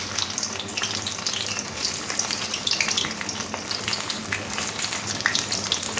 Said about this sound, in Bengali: এই একই তেলের মধ্যে আলুগুলো ভেজে নেব।